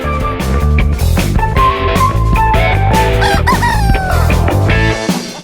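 Loud chickens clucking and a rooster crowing, set within a busy musical mix with a strong rhythmic beat and drawn-out melodic lines, continuous for several seconds with no speech.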